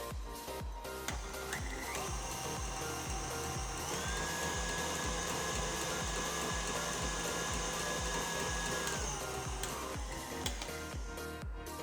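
An electric mixer beats Lapis Surabaya cake batter after sweetened condensed milk is added, giving a steady, even motor whine with a faint rhythmic ticking throughout, no talk.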